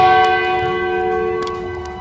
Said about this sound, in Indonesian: suara lonceng yang berdering nyaring disampaikan ke seluruh area Sekte Yuhua